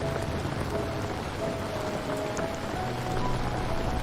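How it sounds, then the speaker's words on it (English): Gentle rain falls steadily over a valley and fields at night, a soft, even patter with no voices, holding at a constant low level throughout. "The gentle patter of rain began to fall upon the valley, a soft, rhythmic drumming that echoed through the hills and whispered across the fields."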